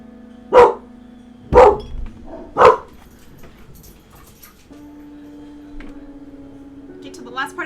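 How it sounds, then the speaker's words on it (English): A dog barks three times in quick succession, loud and close, followed by a quieter stretch of steady hum with faint sounds and a small yip at the end; a person talks in between. "I'm going to be drowned out by dog barking."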